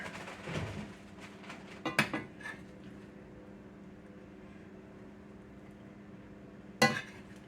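A big spoon scrapes and clinks against a pan while scooping crusted potatoes in a home kitchen: a few quiet metallic scrapes early on, then two sharper clanks, the last one near the end.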